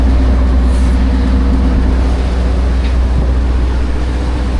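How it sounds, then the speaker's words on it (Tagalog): A boat engine on a working fishing vessel out on the Pacific runs loud and steady, a constant low droning hum with no breaks and no talk. "Bisitahin natin yung makina natin."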